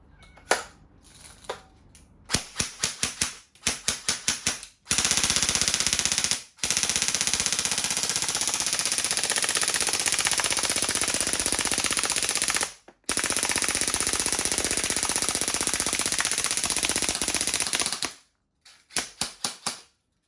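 An E&C 603 MK18 Gen 3 airsoft BB gun fires in long full-auto bursts, a rapid mechanical rattle heard close and loud, after several short bursts and single shots, with brief pauses between strings.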